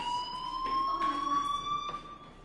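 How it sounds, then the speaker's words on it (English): A fire alarm rings in the Life Is Strange video game as a steady, loud electronic tone with harmonics, sounding throughout with bursts of background noise around it. "Hey, do you hear that fire alarm?"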